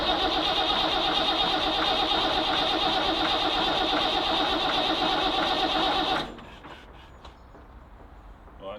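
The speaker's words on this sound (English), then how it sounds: "We're going to crank it a bit now." A Ford TW25 diesel tractor is cranked over on its starter with the fuel stop out, so it does not fire: a steady, loud mechanical whirring drone for about six seconds that then cuts off to quiet.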